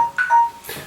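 A phone timer alarm beeps a few times, a short electronic tone, clear and close, with brief gaps between the pitched bursts.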